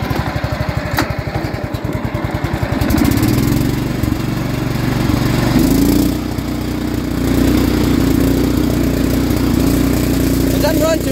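A Simplicity riding lawn mower engine runs rough nearby, with a loud uneven chugging that surges and shifts in pitch, breaking into a steadier drone partway through.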